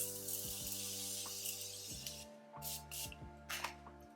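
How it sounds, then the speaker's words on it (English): Morphe setting spray misted onto the face: several short, soft hissing spritzes close by, with light clinks, over a steady low electrical drone. "Spraying with the Morphe Gold Cam just to melt that in."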